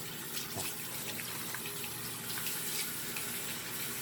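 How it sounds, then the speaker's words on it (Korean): Running water rinses hair during a shampoo at a salon wash basin, a steady soft splashing stream with faint hand movements through wet hair, continuous and fairly quiet. "정수리 부분도 깔끔하게 헹궈 주시고"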